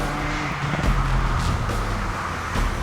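A Ford Fiesta ST hot hatch drives along the Via Campocatino mountain road in Italy, its engine droning steadily close by with rising and falling pitch as it accelerates.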